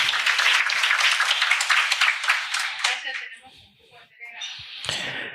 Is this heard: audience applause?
yes